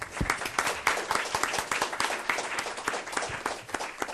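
Audience applause after a talk on decarbonizing electricity in China, a dense burst of many hands clapping close by, steady and loud throughout with no voices over it.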